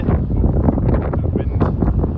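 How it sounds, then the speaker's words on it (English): Wind gusting across the microphone outdoors during leg spin bowling practice, a loud continuous rumbling buffet that fills the whole moment, with no talk. "Wind."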